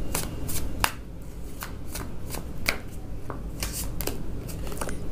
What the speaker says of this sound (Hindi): चलिए दोस्तों, और भी कार्ड्स लेते हैं